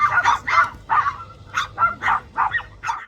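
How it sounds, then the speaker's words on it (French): Dogs in a garden barking and yipping in quick repeated bursts, about ten sharp high calls in a loose rhythm, close and loud with no talk. "Je comprenais pas pourquoi les chiens criaient."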